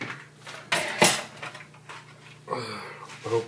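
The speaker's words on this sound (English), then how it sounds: "you move all the dirty dishes to the sink." Dirty dishes shifted into a kitchen sink: a few close clinks and clatters of plates and cutlery with quiet pauses between, and faint voice-like sound in the background.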